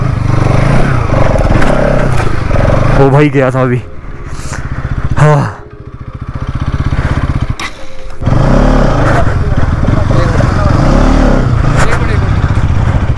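A Bajaj Pulsar NS200 BS motorcycle on an extreme off-road grassy, rocky trail, its engine droning and revving loudly, dipping briefly midway before surging again, with someone talking over it.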